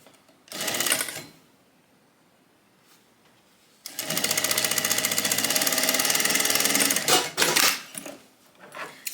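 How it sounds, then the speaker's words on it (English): A sewing machine stitches a tote bag seam at a 3/8 inch allowance, first a short burst of about a second, then a pause, then a long steady run of about three seconds ending in a few quick stitches. "sew it down with a 3/8 inch seam allowance"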